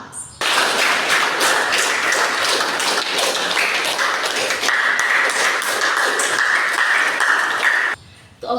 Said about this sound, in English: Let us welcome each of our speakers with a warm round of applause.